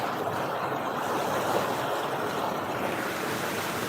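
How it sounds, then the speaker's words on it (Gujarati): Continuous, dense rush of water pouring steadily in through a mesh grate, loud and close, with no voices. "અહીંયા જો ઝાળી મારેલી છે ત્યાંથી અંદર પાણી આવે"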